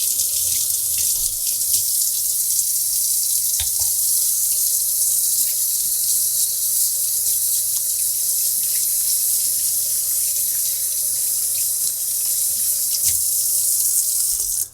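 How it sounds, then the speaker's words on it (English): Hands washed under a kitchen sink tap while cooking shrimp gumbo, with a steady, loud rush of running water that continues unbroken for the whole stretch and no talking. "I wash my hands."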